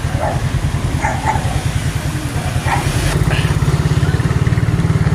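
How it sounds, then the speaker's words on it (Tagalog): A nearby motorcycle engine runs with a steady, pulsing low throb that grows slightly louder partway through as it moves on the road, while a dog barks intermittently in the background. "Patawirin mo muna yung motor."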